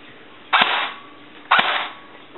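Two sharp, loud reports from an M16A4 airsoft rifle firing semi-auto, spaced about a second apart. The rifle is upgraded with a high-torque motor and M120 spring, and each crack leaves a short hissing tail.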